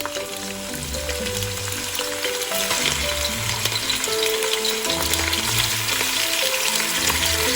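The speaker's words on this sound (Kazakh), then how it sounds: "Етімізді 5-7 минуттай жақсылап қуырамыз" Meat fries in sunflower oil in a kazan, a continuous loud bubbling sizzle with crackling spatter that grows slightly stronger over time, with no voices.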